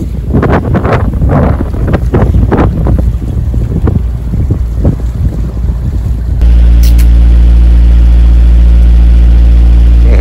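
Strong wind at sea buffets a microphone aboard a boat crossing from Madeira to the Canary Islands with loud, gusty roaring, then gives way to a steady, droning hum for the last few seconds.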